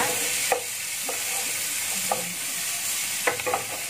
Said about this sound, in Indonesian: kita aduk sampai tomat ini layu ya